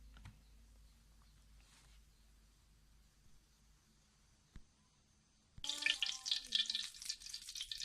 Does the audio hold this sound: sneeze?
no